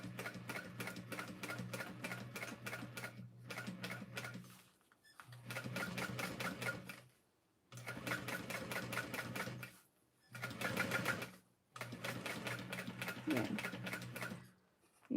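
A sewing machine runs a 3/8 inch seam in repeated bursts of rapid mechanical stitching, several seconds each with short silent pauses between, close and fairly loud.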